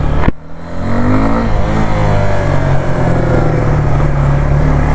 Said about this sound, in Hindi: तो सबसे पहले भाई आपको इसका एग्जॉस्ट नोट सुनाता हूँ कि आवाज़ आपको कैसी आने वाली है।